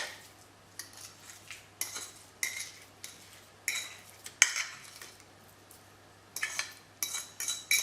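A utensil scrapes and clinks against a bowl as sweet potato purée is stirred into a mix of almond butter and eggs, giving repeated sharp metallic taps and swishes, close and fairly quiet.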